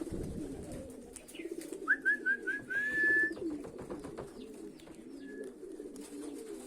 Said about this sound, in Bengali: কবুতর নামতেছে